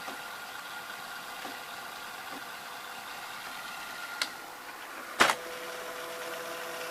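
A Zenith VRS-60 VCR rewinds a tape with a steady, faint mechanical whir and motor hum, broken by a soft click and then a sharper clunk near the end.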